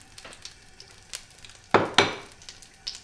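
Oil crackles and sizzles in a frying pan while cod piccata cooks, with two louder bursts of spitting sizzle near the middle over a low, steady frying hiss and a few light clinks.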